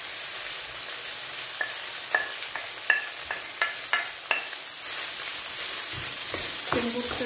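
Onion and garlic frying in a pan while being stirred, giving a steady soft sizzle with a series of clear scraping and tapping strokes from the spoon, some brief clatter near the end.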